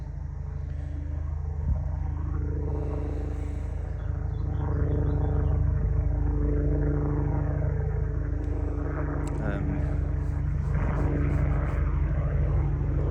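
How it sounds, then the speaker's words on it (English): A helicopter's rotor drones steadily overhead, a low throbbing rumble that swells slightly louder midway and continues without voices. "I'm going to wait a second while that helicopter goes over."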